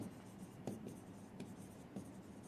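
Pen writing on paper or a board during a Bengali general knowledge lesson, quiet scratchy strokes with a few sharper taps, faint and close against low room hiss.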